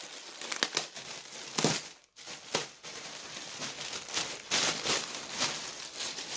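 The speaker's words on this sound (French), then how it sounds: "on va ouvrir le colis ensemble" Parcel packaging being opened close up, with loud bursts of plastic crinkling and a few tearing rips spread across several seconds, briefly dropping to near silence partway through, with no talking.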